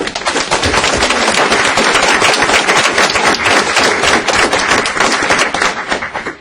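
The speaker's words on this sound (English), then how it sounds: "if we would give them a round of applause" Loud, sustained applause from an evening business meeting audience for the NK Jazz Combo, a dense wash of many hands clapping steadily for several seconds without a break.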